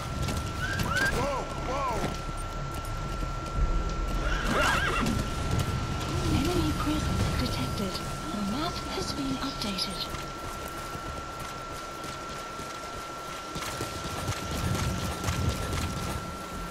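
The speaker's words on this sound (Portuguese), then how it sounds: "Andar com um cavalo é bom, mas ele tipo que distrai a gente." Horse whinnies and clip-clopping hooves from the video game Metal Gear Solid V: The Phantom Pain, with several rising neighs over a steady bed of game ambience and movement, and a voice speaking now and then.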